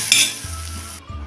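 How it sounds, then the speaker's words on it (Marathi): Spice masala with roasted tomato sizzles while being stir-fried in a pan for Kolhapuri tambda rassa, a loud steady frying hiss that cuts off abruptly after about a second. "बघा आता हा मसाला आपला परतून होत आलेला आहे"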